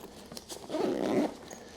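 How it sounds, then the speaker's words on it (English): A YKK zipper on the main pocket of a tactical survival sling bag is drawn open in one steady, close ripping pull of about half a second, following a few light handling rustles. "Now we can move into the main pocket here that has two YKK zippers."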